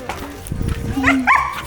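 A dog gives a couple of short barks and yips up close while people talk around it, in a lagoon village in mainland Mexico.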